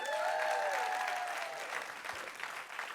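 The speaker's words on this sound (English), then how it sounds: "Give her one more round of applause" Crowd at a live science storytelling show applauds warmly from a distance, a soft wash of many clapping hands, with a faint high whistle-like tone briefly rising over it at the start.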